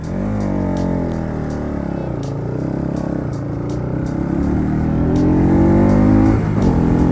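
A motorcycle engine cranks on the electric self-start and catches, then idles and revs steadily, loud and close, with a rising surge of revving near the end and no talk.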